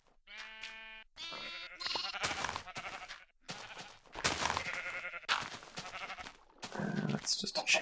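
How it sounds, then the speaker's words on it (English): Sheep bleat in a farming video game, including a baby brown sheep, with several short wavering calls in a row, loud and close, and busy game sounds between the calls. "Oh, look at the little baby brown sheep."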